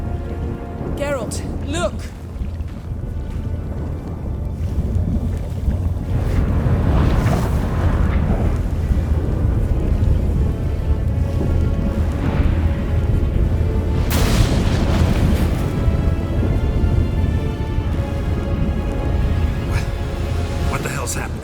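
A sudden storm in The Witcher 3 with steady heavy rain, rolling thunder and booming cracks throughout, under character dialogue.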